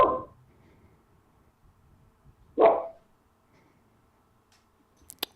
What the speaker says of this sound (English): So you can hear him barking.